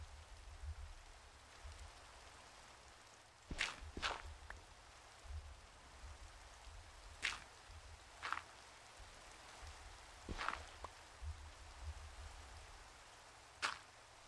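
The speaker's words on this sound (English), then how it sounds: "This rain is really annoying." Steady soft rain patters throughout in the video game Minecraft, broken by several sharp, distinct clicks and taps at irregular intervals.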